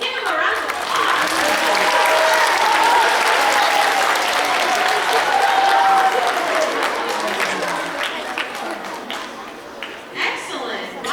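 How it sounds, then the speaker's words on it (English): Audience at a winter choir concert breaks into sustained applause, a dense wash of clapping that holds steady for most of the stretch before thinning out toward the end. "Let's give him a round of applause."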